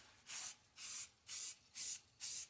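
White spray paint hisses from an aerosol can onto a wooden cube snowman in five even bursts with brief pauses between, close and clear, and nobody talks.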